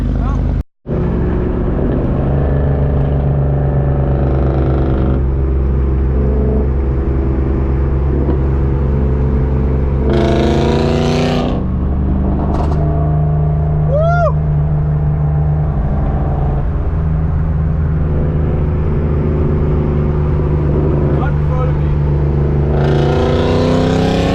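LS V8-swapped Hyundai Genesis widebody car, its engine droning loud and close while driving, with sharp revving bursts in the middle and voices talking over it.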